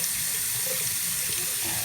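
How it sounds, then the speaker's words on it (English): Cold water from a tap runs steadily over gel-polished fingernails at a sink, a constant close splashing hiss that lasts the whole moment with no voices. "This is running it under cold water"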